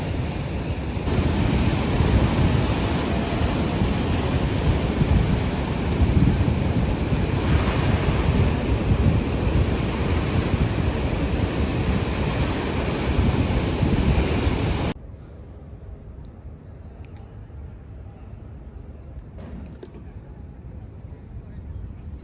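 Atlantic Ocean surf rolls onto the shore at Casablanca near the Hassan II Mosque, a loud continuous roar of breaking waves mixed with wind buffeting the microphone, dropping suddenly to a quieter distant wash near the end.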